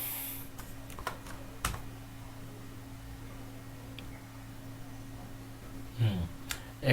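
Keystrokes on a computer keyboard while entering a command in Kali Linux, a few sparse, faint clicks over a quiet room hum, ending with a firmer press of the enter key.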